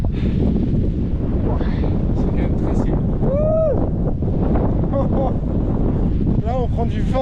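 Strong, loud wind buffets the microphone on the mountain summit of the Pic des Trois Seigneurs, a constant roaring rumble with people talking and calling out over it.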